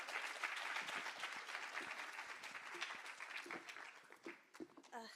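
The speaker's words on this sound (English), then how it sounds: "a round of applause for Lynn, please." Audience applause at a women's day event, a sustained round of clapping from a crowd that stays loud for several seconds before thinning out into scattered claps near the end.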